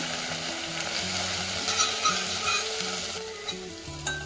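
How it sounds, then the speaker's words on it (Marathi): Spices with garlic-ginger paste, turmeric and asafoetida sizzling steadily in hot oil for bhel, with occasional stirring scrapes, close and continuous, no talk. "ती पण टाकून छान परतून घ्यायचं"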